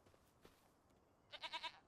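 Goats on a farm in Farming Simulator 25 bleat in a short run of four wavering calls near the end, fairly close, after a stretch of quiet ambient background.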